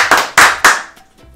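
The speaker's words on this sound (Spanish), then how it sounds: "Un aplauso para Rosa." Three sharp, close handclaps in quick succession, then a couple of faint scattered claps trailing off as applause for a raffle winner fades out quickly.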